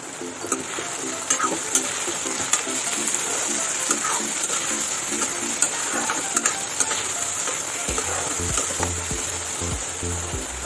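Chicken frying in a pan with turmeric, stirred steadily, giving a continuous close sizzle with scraping clatter of the spoon against the pan throughout.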